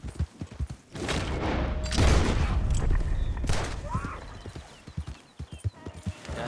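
Gunfire in Red Dead Redemption 2 mixed with horse hoofbeats, a steady clip-clop of a ridden horse under a few sharp shots, with brief talk over the top.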